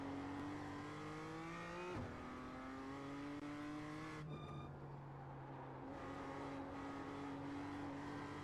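A BMW M2 race car engine in the sim racing game iRacing revs and climbs through gears, rising whine dropping sharply at each shift, with a brief higher mechanical chirp mid-run, steady and fairly quiet.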